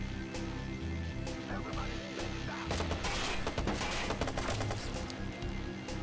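Gunshots in the open-world game Watch_Dogs crack in a steady stream of bursts amid a dense, noisy firefight, loud throughout with faint voices underneath.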